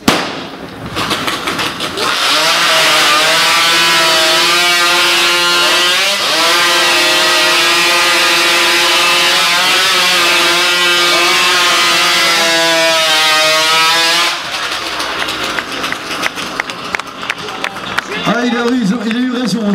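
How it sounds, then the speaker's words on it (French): A heavy racing chainsaw cuts through wood at a French Stihl Timbersports championship, a loud sustained high-revving whine whose pitch wavers under load for about twelve seconds before dropping off. A voice comments near the end. "Ce sont des machines très lourdes qui sont de petites Formule 1 de la tronçonneuse."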